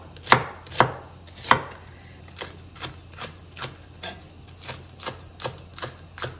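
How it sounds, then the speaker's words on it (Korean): A knife chops food on a board in a home kitchen: about a dozen crisp, close knocks, three louder ones first, then a quicker, softer run of even strokes, with no talk. "빨리 잘라서 넣읍시다."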